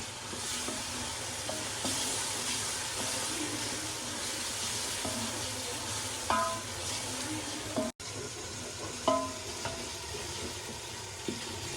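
Tomato-chili masala frying for kadhi pakora, a constant close sizzle with scattered stirring clinks of a spoon against the pan, a brief gap near the middle, and faint talk in the background.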